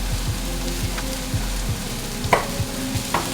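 Vegetables, garlic and tomatoes fry in a pan with a steady close sizzle, broken by regular soft knocks and scrapes as they are stirred around.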